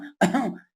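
A voice imitates a whooping-cough-like cough, producing one short, harsh, throaty bark close to the microphone after a brief quiet pause.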